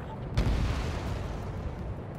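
Bombs dropped on anti-air radar vehicles in Ace Combat 7 burst with a single deep boom, followed by a rolling, fading rumble of distant blasts under continuous battle noise.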